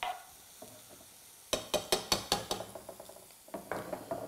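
Pasta is mixed in a pan with a spoon, giving a quiet stretch and then a run of sharp scraping, clattering strokes in a steady rhythm over a faint sizzle, close up.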